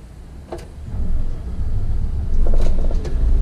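Solaris Urbino 15 city bus engine starting up and rumbling at idle, the low drone swelling louder in steps as it builds, with a few brief clicks and knocks.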